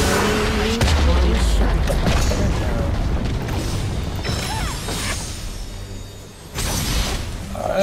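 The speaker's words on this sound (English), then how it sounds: "Alright, we got down a turret." A turret collapsing in League of Legends gameplay, a busy run of booming crashes and mechanical clatter that swells near the middle and tails off, with a voice speaking over the game audio.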